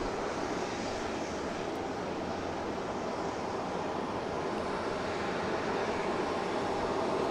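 An airliner takes off from Boston Logan on a flight to Philadelphia, its jet engines a steady, loud broadband roar that holds without a break through the whole stretch, with no voices over it.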